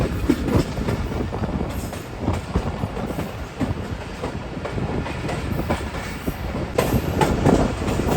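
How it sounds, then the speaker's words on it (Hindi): The Allama Iqbal Express rolls into Sahiwal railway station, its steady loud rumble carrying repeated clickety-clack wheel beats on the rails and faint squeals, close and continuous throughout. "तकरीबन 3:27 पर हमारी ट्रेन पहुंच रही है साहिवाल रेलवे स्टेशन पर"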